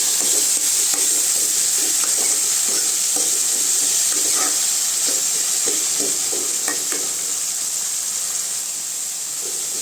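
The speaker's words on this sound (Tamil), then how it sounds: "இப்போ தாங்க தக்காளி நல்லா வதங்கி வரும்" Onions and tomatoes sauté in a pan for a mushroom curry, giving a constant close sizzle and hiss with soft scraping stirs scattered throughout.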